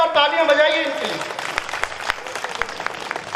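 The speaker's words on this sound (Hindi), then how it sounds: "एक बार जोरदार तालियां बजाइए इनके लिए" A devotional gathering at a Shri Ram Katha in Pithoragarh breaks into applause after a voice, with scattered sharp claps growing into a lively round from the seated audience.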